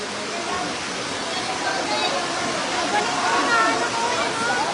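Heavy floodwater rushes in a steady, loud broadband roar through a barangay in Nonong Casto, Lemery, Batangas, sweeping past a flooded cover court, with someone speaking over the continuous torrent.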